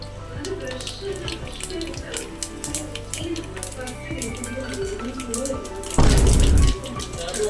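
Mustard seeds crackle and sizzle sharply in hot coconut oil throughout, ending in a brief loud burst of hissing spatter; a voice speaks intermittently underneath.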